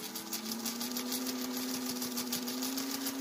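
A sewing machine quilts along a placemat with a steady, close motor hum and rapid rhythmic needle ticking, a quiet continuous run with no talk.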